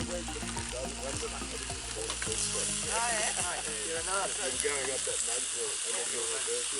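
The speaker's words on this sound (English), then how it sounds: "the sausages are sizzling" Steady frying sizzle of sausages with a constant hiss, under loud overlapping voices and kitchen clatter.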